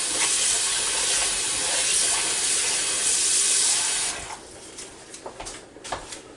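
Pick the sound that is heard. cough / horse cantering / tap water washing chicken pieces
tap water washing chicken pieces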